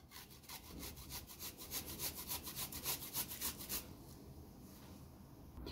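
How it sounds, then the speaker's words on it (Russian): Garlic rubbed on a fine grater, a quick run of soft, close rasping strokes in an even rhythm for about four seconds, then quieter rustling. "На мелкой терке я натираю чеснок."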